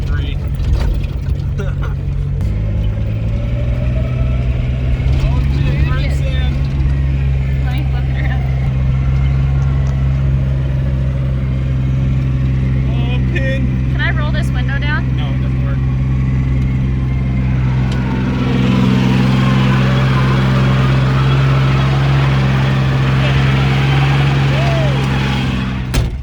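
A 1983 Chevy S10 Blazer engine working steadily while off-roading, a loud continuous drone heard from inside that deepens and swells near the end, with rattling and bumping over the terrain.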